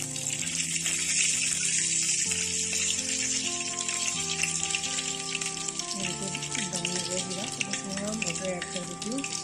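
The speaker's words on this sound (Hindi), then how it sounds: "ऑयल मेरा गर्म हो गया, इसमें मैं 1/2 टी स्पून क्यूमिन सीड डाले है जीरा।" Half a teaspoon of cumin seeds sizzling in hot oil for jeera rice, a continuous close frying hiss with faint crackles, with tonal background sounds running underneath throughout.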